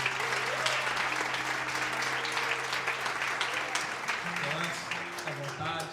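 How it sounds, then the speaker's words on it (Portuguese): A church congregation applauds steadily at an anniversary revival service, dense and continuous clapping throughout, with a voice speaking over it. "Vamos aplaudir Jesus pelo Pastor Anderson."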